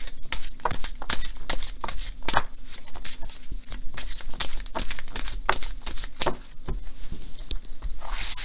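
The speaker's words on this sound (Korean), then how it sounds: "좋은 카드 한 장 뽑아볼게요" Tarot cards are shuffled close up in a long run of quick, crisp riffling flutters and soft slaps, and the sound eases toward the end as a card is drawn.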